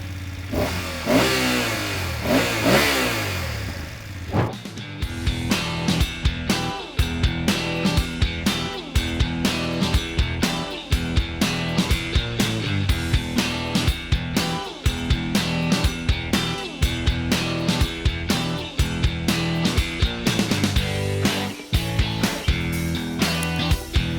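A 2023 BMW F 850 GS Adventure motorcycle engine is blipped repeatedly, sharp revs rising and falling in quick succession after a single longer rev, loud and close with no talking.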